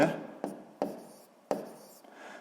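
Pen or chalk writing out a sixth-grade maths geometry exercise, a few distinct scratchy strokes with sharp onsets spaced about half a second apart, close up and fairly soft.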